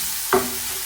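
Onion frying in a pan as the base for a vegetable soup, a steady close sizzle with a short sharp burst of hiss near the start, no voices.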